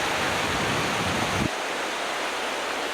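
Class 3 whitewater of Martin Rapids on the McKenzie River, a steady broadband roar of rushing water that drops abruptly to a lighter, thinner wash partway through.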